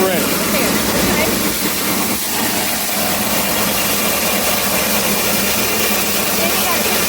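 A 150-horsepower tractor runs loud and close, its PTO driving a grain auger during a corn harvest in Arkansas, giving a constant heavy engine drone with mechanical rattle throughout.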